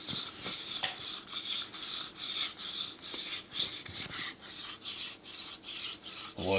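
A wooden bow drill spindle rubs rhythmically against a wooden fireboard in a friction fire attempt, a steady back-and-forth rasping that repeats in quick even strokes, close and fairly quiet.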